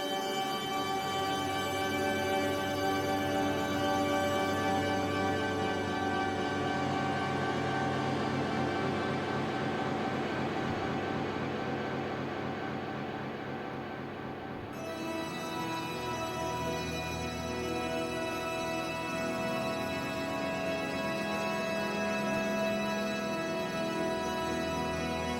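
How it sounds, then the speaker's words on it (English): A single ukulele note resampled repeatedly in a Chompi sampler and drenched in reverb and delay becomes a dense, sustained drone that shifts in tone partway through and holds steady to the end. "take that resampled sample of another resampled sample and add a bunch of reverb and delay to it"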